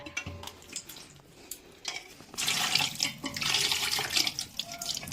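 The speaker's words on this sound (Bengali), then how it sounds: "ভাতটা ধুয়ে নিচ্ছে।" Rice for mutton biryani is rinsed under running tap water: soft clinks and trickles at first, then a steady louder gush of flowing water with splashing for the last half.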